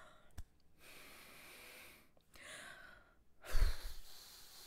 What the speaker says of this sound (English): Heavy breathing, okay.